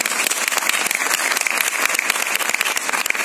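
A hall audience claps loudly and steadily, a dense wash of many hands at a Moringo Organics business gathering, with no voices over it.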